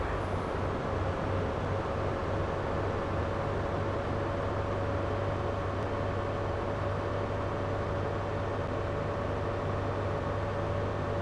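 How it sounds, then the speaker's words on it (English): A First Great Western HST train pulling away in the simulation game Train Sim World 2, a steady low rumble with a constant engine hum and a thin whine, even and unbroken, with no talking. "Train is moving."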